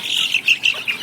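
Two-month-old chicks squawk and peep in quick, high-pitched bursts, close by and fairly loud.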